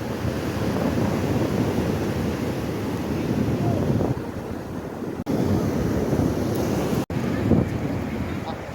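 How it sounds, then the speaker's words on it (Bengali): Rough, churning sea surf at a beach, a steady broad roar of crashing waves with wind buffeting the microphone, loud and continuous with two brief dropouts. "সমুদ্র একদম পুরা উথাল পাথাল ঢেউ পুরো ঢেউ দেখো"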